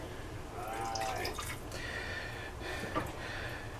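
Warm water being poured and trickling into a container while preparing honey mead, a soft continuous liquid stream with a few drips, fairly close and quiet.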